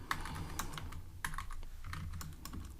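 Typing code on a computer keyboard, with quick close key clicks in irregular bursts, steady and fairly quiet with no talk.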